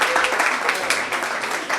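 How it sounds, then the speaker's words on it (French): An audience at a radio show's internship certificate ceremony gives a loud, dense burst of clapping for the event promoter, sustained and close throughout. "Un tonnerre d'applaudissements pour lui, s'il vous plaît."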